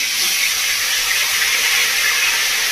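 Tomatoes dropped into hot oil previously used for frying fish, a steady loud sizzle and hiss with no break, alone with no voice.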